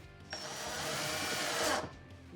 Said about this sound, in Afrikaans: ek het 'n boor agter.